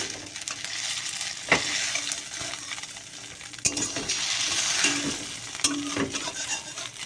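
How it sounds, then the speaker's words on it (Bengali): An egg omelette fries in oil in a pan, giving a continuous close sizzle with a few sharp taps and clinks of a utensil scattered through it; no speech. "তার জন্য তেল দিয়ে একেবারে ডিম দিয়ে দিয়েছি"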